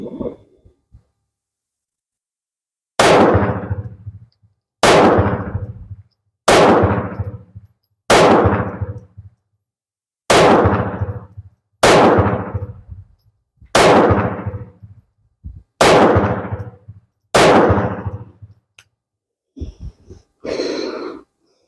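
A surplus Ruby .32 pistol fires about ten loud, sharp shots at a steady pace of roughly one every one to two seconds, each with a short ringing decay, then faint clatter at the end.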